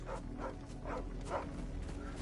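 Dog barking in the Final Fantasy XVI video game, an unkempt brown-and-white dog giving several short, evenly spaced yips and barks at moderate distance over a steady low game ambience.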